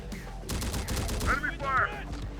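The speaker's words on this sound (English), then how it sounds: "Enemy fire." Enemy gunfire in the Terminator: Dark Fate Defiance video game, a quick burst of rapid automatic shots followed by a couple of sharper cracks, close and fairly loud amid battle noise.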